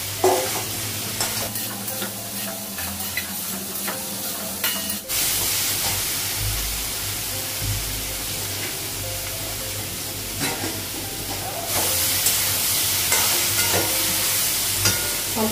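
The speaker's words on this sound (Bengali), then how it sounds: "ভেজে নেব একটু মশলাটা।" Spices fry in a pan with a continuous close sizzle and hiss, broken by repeated scraping stir strokes and growing louder in bursts as the mixture is turned.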